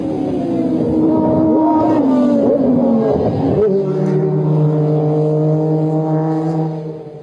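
A Toyota TS010 four-cylinder race car at the 24 Hours of Le Mans in 1993, its engine note rising in pitch under acceleration and then dropping to a steadier, lower drone, loud and close with faint commentary underneath.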